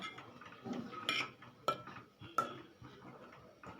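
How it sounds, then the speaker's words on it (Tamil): Quiet clinks and scrapes of a spoon stirring eggplant kara kuzhambu curry in a pot, a few soft metallic taps at irregular intervals, close by. "கொஞ்சமாக தண்ணியும் சேர்த்து"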